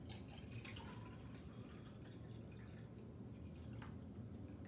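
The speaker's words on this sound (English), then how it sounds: "I'm going to also add a can's worth of water." A can's worth of water is poured into a pot of vegetable soup, a soft, steady trickle and splash, faint and unbroken with no talk.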